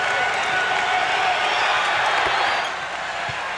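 A basketball arena crowd roars in a steady, loud wash of cheering and applause during a Detroit Pistons versus Orlando Magic game, sustained throughout and easing slightly near the end.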